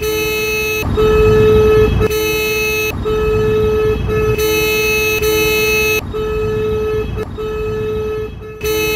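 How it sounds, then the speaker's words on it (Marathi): Loud, sustained car horns blare repeatedly in long blasts over a constant rumble of road traffic near Mumbai's Crawford Market, with brief pauses between them. "गाड्यांचा हॉर्न मारण्याचा आवाज मुंबईतला ना जन्मसिद्ध हक्कच आहे वाटतं"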